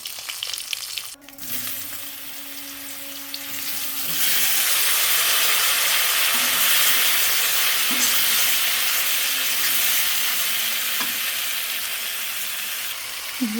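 Dried fish drop into hot oil and fry with a loud, continuous sizzle that swells after a few seconds and holds steady, heard up close with faint clinks.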